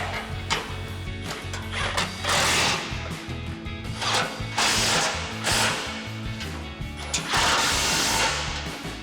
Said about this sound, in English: We've got our 16 mil socket on our impact and a 16 mil wrench. And we'll tighten these down.